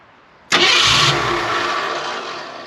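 A car engine with a newly fitted starter cranks and catches suddenly, then a loud, steady engine roar with a bright hiss holds and slowly eases off, alone without talk.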